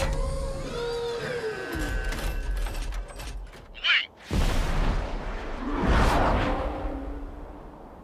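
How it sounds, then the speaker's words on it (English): A UAV launching in the video game Ace Combat 7: mechanical whirring and rising tones give way to a sudden forceful whoosh and a roaring launch blast that swells loudly then fades. "UAV's ready to launch."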